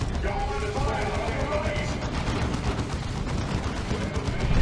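A plasma devastator shot in Dawn of War 2 Retribution, a Warhammer 40k strategy game, heard amid constant battle noise of gunfire and clatter with no clear standout blast.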